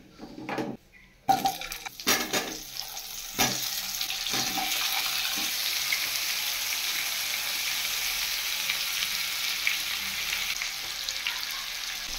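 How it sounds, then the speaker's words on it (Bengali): Cut potatoes drop into hot spiced oil, and a burst of clatter gives way to a steady, even sizzle that holds close and unbroken to the end. "এবারে দিয়ে দেবো আলু, কেটে রাখা আলুগুলো দিয়ে দিই"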